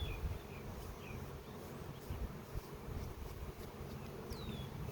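Honey bees buzzing around a hive frame while grafting queens, a dense continuous drone with occasional single bees whizzing past close to the microphone, no talk.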